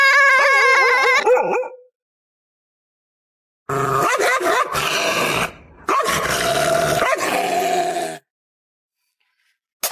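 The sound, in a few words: dog barking and growling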